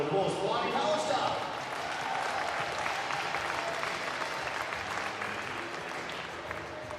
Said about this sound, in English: can I please get a round of applause for Ryan Callister?